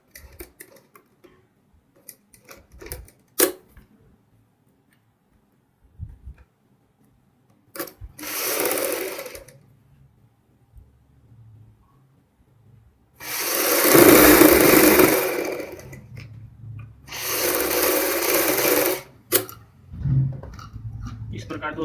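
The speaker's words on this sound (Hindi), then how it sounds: "दूसरी साइड भी हम इसी तरीके से ऊपर से ही सिलाई लगाएंगे।" A sewing machine topstitches a fancy zip into the high neck collar of a kurti in three short bursts, loud and close, separated by quiet gaps with small handling clicks.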